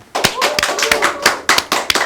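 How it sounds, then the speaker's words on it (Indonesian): A small studio audience claps for a band's introduction on a talk show, a burst of sharp, fairly loud handclaps lasting about two seconds without any talk over it. "Tepuk tangan dong."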